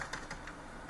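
Fingers type on a computer keyboard in a quick, even run of close, light key clicks, with no voice over them.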